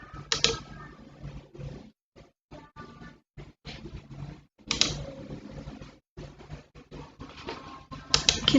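Rapid bursts of computer keyboard typing while entering data into SPSS statistics software, close and fairly loud, with irregular clusters of keystrokes broken by short pauses.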